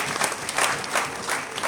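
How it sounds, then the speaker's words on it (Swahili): A church congregation at a New Year service claps together, a short, full burst of applause that swells in quick waves, close and lively. "Sisi tumpigie Mungu wetu makofi."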